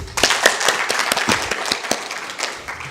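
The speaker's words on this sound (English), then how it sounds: "Can we clap for him?" Audience applause at a university prize finals and award ceremony: a short burst of scattered, moderately loud clapping with distinct individual claps, heard alone without speech.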